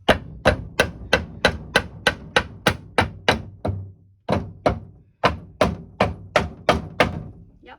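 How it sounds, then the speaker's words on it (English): Repeated sharp hammer blows knocking a nailed-on board off a wooden dresser, about fourteen strikes in a steady rhythm with a brief pause partway, close and loud, no talking. "I'm going to just hammer it off"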